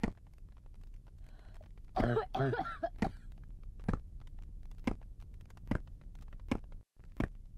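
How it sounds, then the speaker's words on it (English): Repeated coughing in a horror video game set in a boarded-up building: a harsh, throaty fit followed by single sharp coughs spaced about a second apart, close and alone with no talk. "Here, drink some water to help your cough go."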